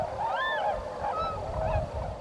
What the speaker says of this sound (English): The swans and geese are the showbirds.